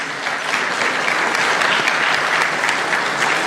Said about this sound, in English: Please welcome Dr. Ghebreyesus with a resounding round of applause